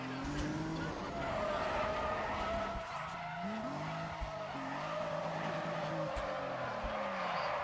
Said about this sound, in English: You want to see some more drifting? You know you do. This is it. Listen to that engine.